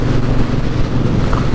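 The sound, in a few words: Triumph Bonneville Bobber motorcycle engine while riding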